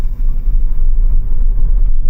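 A BYD car accelerates hard from a standstill toward 60 mph in sport mode with ESC off, giving a loud, steady low rumble heard from inside the cabin with no talking.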